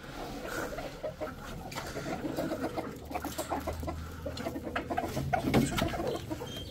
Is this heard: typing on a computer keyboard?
no